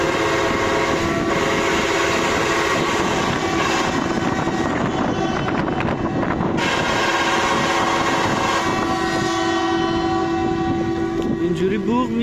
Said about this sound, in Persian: اینجوری بوق میزنن که متوجه بشن راه باز کنن